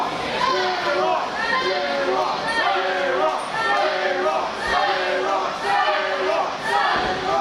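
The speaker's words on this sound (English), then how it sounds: "The crowd starting to get on J-Rocc's case." A wrestling crowd at an independent show jeers and chatters steadily, a loud continuous roar of voices with a commentator talking over it.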